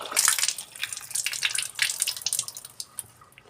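Tap water running in a kitchen while a few green chillies are rinsed under it, a close, splashy hiss with uneven gushes and patters for a few seconds, no talking.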